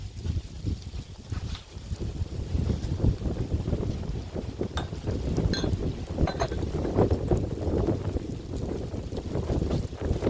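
Outdoor wind buffets the microphone with a continuous low rumble and uneven gusts for about ten seconds, and no other sound stands out.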